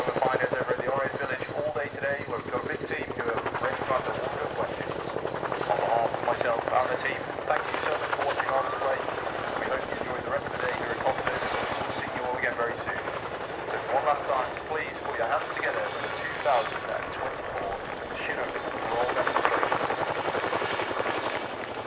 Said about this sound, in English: what a great demonstration for the iconic Royal Air Force Chinook